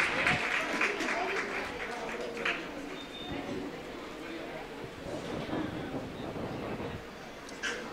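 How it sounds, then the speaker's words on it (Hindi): Audience applause at a prize distribution ceremony of an education and welfare society, a dense steady clapping from a sizeable crowd lasting several seconds, fairly loud and continuous with no break. "हाजरीन तालियों से इस्तकबाल करें।"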